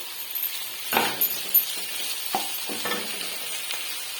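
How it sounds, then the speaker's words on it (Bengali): Boiled mushrooms go into a pan of shallow-fried potatoes and onions, giving a soft continuous sizzle broken by several sharp bursts and clinks as the food is stirred, with no talk. "এর মধ্যে আমি সিদ্ধ করা মাশরুমটা দিয়ে দেব।"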